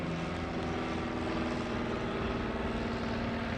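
A Piper Cub light airplane drones steadily at an airshow over Greenwood Lake, its propeller engine a constant, fairly loud hum from a distance as it flies a loop, with no voices.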